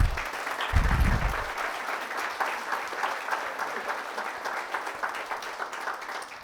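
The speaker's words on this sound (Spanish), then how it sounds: "Un fuerte aplauso para el Señor." A church congregation gives the Lord a loud round of applause: a dense, sustained wash of clapping that carries on steadily, with a brief low thump near the start.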